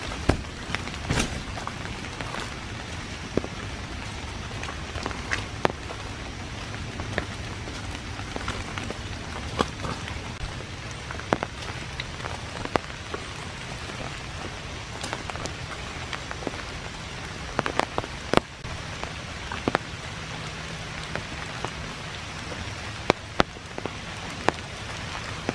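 Rain falling on a foggy Sunday morning at Iroquois Park, a steady dense patter with scattered sharper drips and taps close by, continuous and without any voices.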